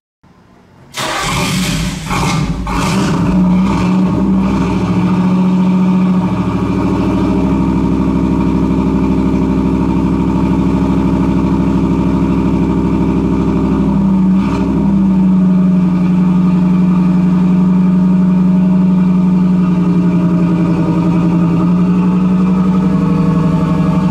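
A 1990 Pontiac Firebird engine starts and runs close by, settling into a loud steady idle with a brief rev partway through, alone with no talk.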